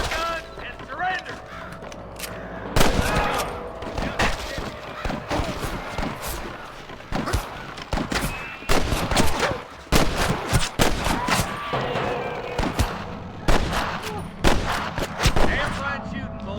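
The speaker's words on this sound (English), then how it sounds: "Damn fine shooting, boys." Gunfire during a Red Dead Redemption storm cattle-drive shootout: repeated loud rifle and pistol shots in scattered bursts, some rapid, over a busy game ambience with occasional voices.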